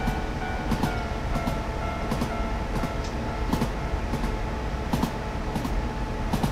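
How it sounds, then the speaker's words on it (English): A 103 Series EMU electric train coasts with the power off in the Train Simulator 2017 video game, giving a continuous rumbling ride with rhythmic wheel clicks over rail joints and no speech. "I'm then going to shut off the power and allow the train to coast."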